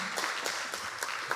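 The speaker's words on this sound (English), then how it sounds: "I see folks want to clap" Light, sparse clapping from a small audience at a university conference panel discussion, a few separate hand claps in a quiet room.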